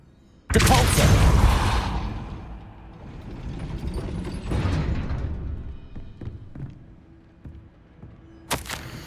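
A heavy gate mechanism in Hogwarts Legacy starts with a loud sudden thump and grinding rumble, then a lighter mechanical rumble and scattered clicks, ending with a sharp knock.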